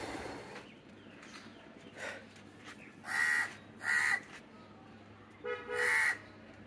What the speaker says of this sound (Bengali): এই কাকটা দেখেন ভাই